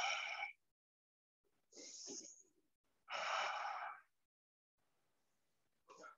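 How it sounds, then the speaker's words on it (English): Slow, deep breaths in and out during a power yoga session, three or four loud, airy, close-up breaths separated by short pauses. "Breathe in, breathe out."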